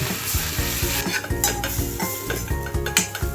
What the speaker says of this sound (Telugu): ఇలాగా వేయించేసుకున్నాం. వేగిపోయింది.